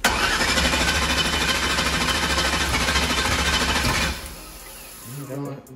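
Engine on methanol fuel cranking and catching, a loud, dense, steady roar for about four seconds that abruptly drops away, followed by quieter sputtering and a brief low rumble at the end.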